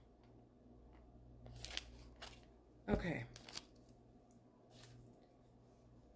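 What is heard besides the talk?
cutting with scissors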